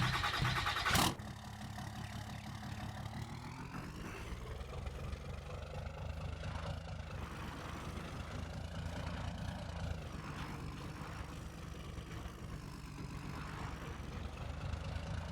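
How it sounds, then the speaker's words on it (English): A pickup truck engine cranks and catches with a sharp burst, then settles into a steady, close mid-pitched idle that runs on evenly with slight swells in revving, no voices over it. "Actually, let's just use my truck."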